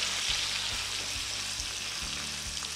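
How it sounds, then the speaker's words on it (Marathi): Masala spice paste fries in oil after ginger and garlic, for a potato curry, giving a steady close bright sizzle with soft stirring scrapes and a few light taps against the pan. "हा तेलामध्ये छान परतून घ्यायचा आहे, 5-6 मिनटं परतायचं आहे, तेल सुटेपर्यंत परतायचं आहे।"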